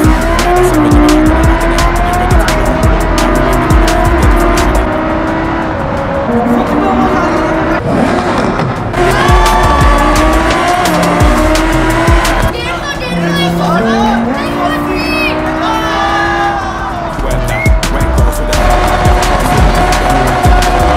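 A car in a racing video game on a gaming PC skids with squealing tires and slams into a wall, over loud continuous engine noise and game sound while someone talks throughout.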